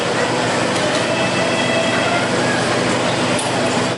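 A train rolls through Madiun railway station during the post-Lebaran return rush, a loud, steady rumble of wheels and carriages filling the whole span with a constant roar and faint rail clatter.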